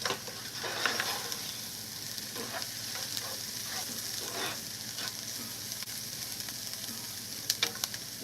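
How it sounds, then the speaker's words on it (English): Gumbo greens simmer and sizzle steadily in a pot while a spoon stirs them, making soft scraping clicks. The sound is continuous and close, and no one speaks. "Okay, so I'll stir this again."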